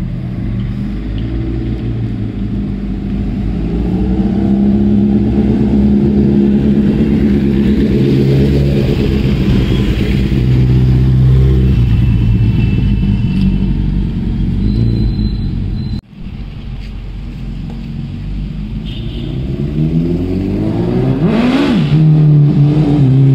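A Suzuki Hayabusa motorcycle engine rumbles loudly close by, revving up and holding for long stretches, cutting out briefly, then climbing through rising revs again.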